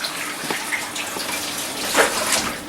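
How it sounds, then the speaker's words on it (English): Shaved green cabbage rinsed under a running kitchen tap, a steady broadband rush of water with small splashy surges as the leaves shift in the stream, close and continuous with no talking. "Let me rinse this off."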